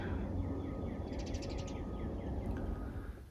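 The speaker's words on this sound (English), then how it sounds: "The birds are chirping, but I think they're confused." Birds chirping in the morning: a brief, faint run of quick chirps rises over a steady background hiss, then one more short call follows.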